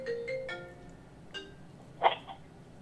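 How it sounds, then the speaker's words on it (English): A cell phone rings with an incoming call from a landline during a test of a long-range cordless phone, a few short electronic tones, then a brief clink, fairly quiet, with no talk. "Okay, I'm getting the call on my cell phone here."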